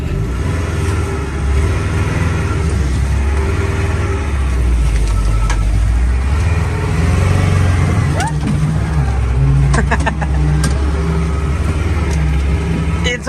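A vehicle driving over a bumpy, rough road to reach a remote abandoned Russian village, with a steady loud engine rumble and road noise throughout and a few sharp rattles and knocks near the end.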